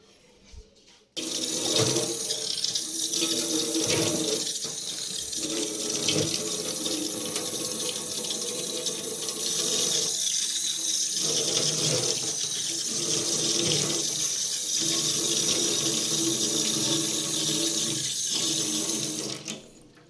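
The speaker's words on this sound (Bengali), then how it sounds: "চলো এবার ধুয়ে নিই তোমাদের দেখায়" Tap water runs steadily into a sink to rinse off a homemade tomato face pack, a loud close splashing stream that starts suddenly and continues for nearly twenty seconds.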